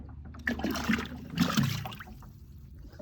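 Water and a catfish are poured into an aquarium, producing soft splashes and gurgles in a few uneven bursts, fairly quiet and close, tapering into a low trickle.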